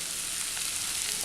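Mushrooms frying in oil with curry leaves for a Kerala-style dry fry, a steady close hiss and crackle of sizzling throughout, with no voices.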